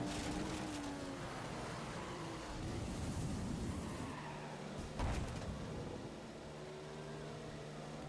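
An F1 car spins and skids in a racing video game, with a steady engine drone and tyre scrub running almost throughout. A brief harsh burst comes midway, and no one speaks.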